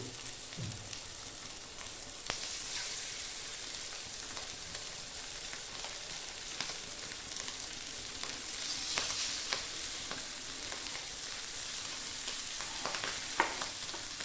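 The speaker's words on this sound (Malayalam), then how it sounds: "നേരത്തെ മസാല പുരട്ടി വെച്ചിരിക്കുന്ന മീൻ അതിലേക്ക് ഇട്ടു" Masala-coated fish frying in ghee in a pan over high flame, a steady, faint sizzle and crackle with a few sharper pops scattered across it, with no voices.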